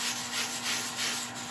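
An olive ash bowl spinning on a wood lathe is polished with True Grit abrasive paste, giving a brief, steady rubbing hiss with a faint tonal hum beneath it and no voices.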